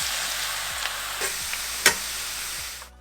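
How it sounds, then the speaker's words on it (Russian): Steady crackling sizzle of potato sticks frying in hot oil, with a few faint clicks and one sharper tap partway through, ending abruptly. "Ждем, пока разогреется, и бросаем картошку."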